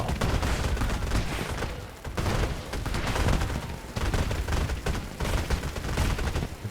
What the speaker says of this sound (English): If there's something we know we're gonna get with BEplayer, it is a fantastic fireworks show.